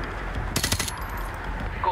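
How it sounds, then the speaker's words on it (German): Gunfire in Modern Warfare 2 Remastered, a quick burst of several sharp shots in the middle of the clip over a low, steady game ambience. "Guter Schuss."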